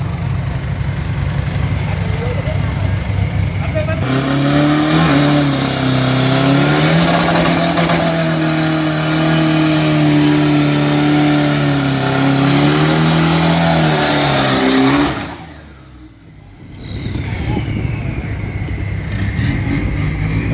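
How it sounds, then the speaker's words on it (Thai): A Ford Mazda turbo 3000 pickup revs hard at a 402 m drag racing event in Bangkok. Its loud, close engine roar holds and wavers in pitch for about ten seconds, drops away sharply, then returns. "Ford Mazda Turbo 3000 ครับ รถบ้านทรงลุง"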